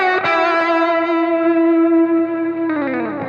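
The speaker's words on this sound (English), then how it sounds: "And here would be like a faster vibrato." Electric guitar with effects playing a sustained note bent and shaken in fast vibrato, a short lick ringing loud and alone, closing with a quick slide to a new note.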